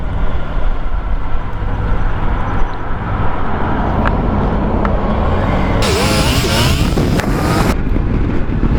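Triumph GT motorcycle riding on a street, captured from a helmet-mounted camera: a steady, loud engine drone with wind roar throughout, a brief louder gust of rushing air in the middle, no talk.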